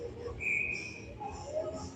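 A referee's whistle at a girls' varsity ice hockey game gives a short, fairly faint blast, followed by a second softer whistle, over steady arena crowd noise.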